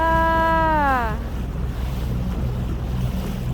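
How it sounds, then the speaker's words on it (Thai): Wind and sea noise roar steadily on a boat heading out to lobster traps at sea in rainy weather. A falling tonal whine, like a passing engine or horn, fades in the first second. "นี่แหละจ้าบรรยากาศทะเล"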